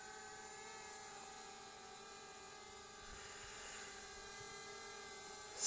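An Elanview Cicada+ drone flies at low battery, its rotors giving off a steady high-pitched whine with layered tonal harmonics that hold evenly throughout, fairly close and alone without voices.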